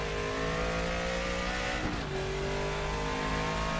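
A Ford Capri Group 5 race car's high-revving inline-four engine screams in RaceRoom Racing Experience, droning steadily with a brief dip and shift in pitch midway, loud and unbroken.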